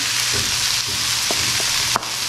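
Green chillies added to a pan of frying cluster beans on a tawa give a steady close sizzle, broken by a few light stirring clicks and one sharper clatter near the end, with no talking.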